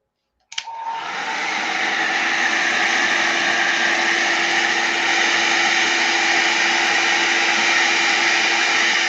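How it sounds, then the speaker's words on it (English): A heat gun starts with a click and then blows in a loud, steady roar. It is aimed at two glued pages of a composition journal being collaged and keeps going without a break. "Let me hit this with the heat gun."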